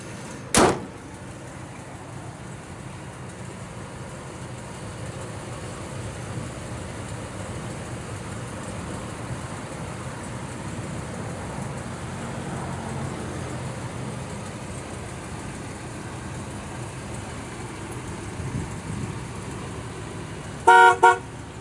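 1988 Chevrolet Suburban Silverado with a fuel-injected engine, starting with a sharp click and settling into a steady low idle. A few quick honks from the horn sound near the end.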